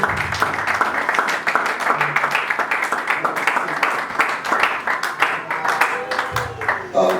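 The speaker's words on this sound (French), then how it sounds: "On acclame la parole de Dieu." A church congregation claps and cheers to acclaim the word of God, a dense, sustained burst of rhythmic clapping mixed with voices filling the room for several seconds.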